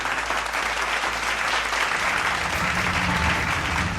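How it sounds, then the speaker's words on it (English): A senior high school graduation audience gives a round of applause: dense, even clapping from many hands, steady throughout. "let us give a round of applause to Mr."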